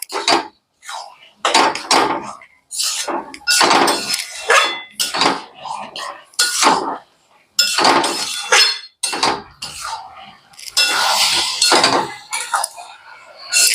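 Peas are stirred and sautéed with spices in a pan for ghugni, producing loud, irregular bursts of scraping and clattering utensil against metal, close up.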